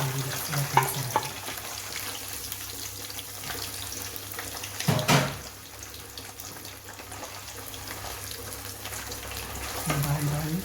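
Shallots, ginger and lemongrass sizzle and are stirred in hot oil in a pan for homemade black pepper beef, a steady crackle with scraping stirs, a brief splash of water or clatter midway, and some faint voices underneath.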